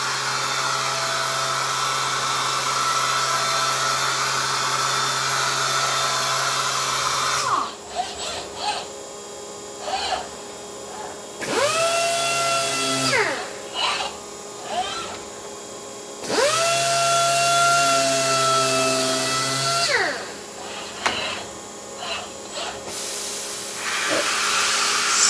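Cosmo sanding robot working a panel, with a steady loud airy hiss of sanding interrupted by two longer bursts of rising motorized whine as it blows off the sandpaper, then settling back.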